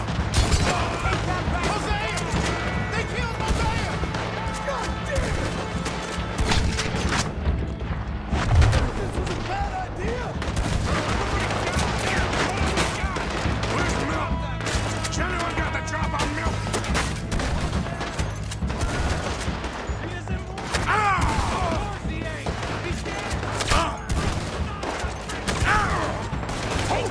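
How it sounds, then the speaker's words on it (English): A dense shootout in the video game Red Dead Redemption 2 is heard, with continuous overlapping gunshots, booms and rapid fire cracking throughout, loud and busy, with voices shouting at times under the barrage. "Just keep shooting!"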